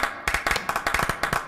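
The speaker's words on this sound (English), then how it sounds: "That's a lot of claps." A person claps their hands about a dozen times, quick and close, in a slightly uneven rhythm.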